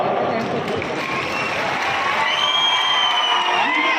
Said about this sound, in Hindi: ताली बजाने के लिए तैयार हो जाओ।